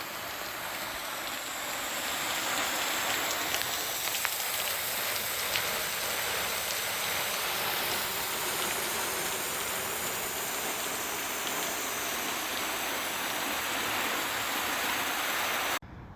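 Water sprays hard and steadily from a leaking lawn sprinkler at night, a continuous hissing rush like heavy rain that stops abruptly at the end.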